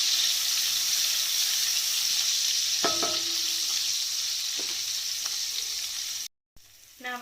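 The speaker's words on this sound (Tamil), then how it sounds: "இது நல்லா பொரிஞ்சு கலர் மாறட்டும், அப்போ தான் நல்லாயிருக்கும்." Dried ghee fish (nei meen karuvadu) fries in hot oil with a steady, bright sizzle and hiss throughout, a few faint clinks over it, then a sudden brief cutoff near the end.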